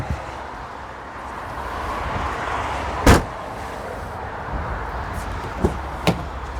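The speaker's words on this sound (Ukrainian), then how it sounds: "Двері так приємно відкриваються" A single solid thump near the middle as a 2020 Opel Crossland car door opens and closes, followed by two lighter clicks, over steady low background rumble; no talking.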